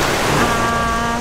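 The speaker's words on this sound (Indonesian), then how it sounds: "Ya, kita ada di tepi pantai." Ocean waves wash onto the beach at Sipitang with a loud, continuous roar, while wind rumbles against the microphone and a faint steady engine-like hum runs underneath.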